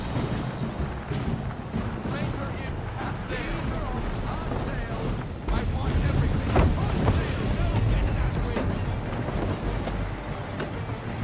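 A sailing ship ploughs through ocean waves in Assassin's Creed III Remastered, with a continuous rush of wind and surf that swells louder midway and stays dense throughout.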